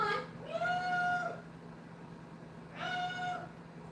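A cat named Hercules meows twice, two drawn-out nearby mews separated by a short pause, with no talk over them.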